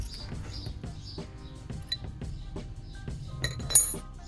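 A 14mm spanner works loose a brake hose nut at the front brake caliper of an Alfa Romeo Giulietta, giving a few light metallic clinks and taps close by, fairly quiet, with no talking.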